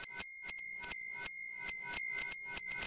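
Toaster bell sample turned into an Omnisphere granular instrument, played as a rhythmic series of short, clicky, bell-like bursts with sustained high ringing tones running through, fairly quiet and alone.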